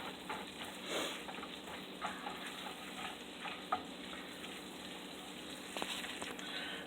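Butter melted into bacon grease sizzles softly in a pan warming back up on the burner, a steady low crackle with a few small pops and taps and no talking.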